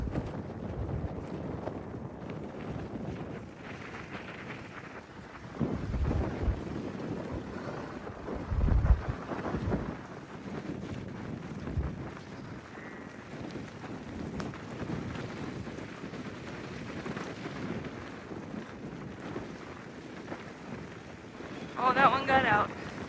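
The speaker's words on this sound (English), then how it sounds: "this headwind is making it a lot slower than normal" Gusty headwind buffets the microphone during a rainy bike ride on a gravel road, rumbling low and uneven with louder surges, while a voice talks intermittently.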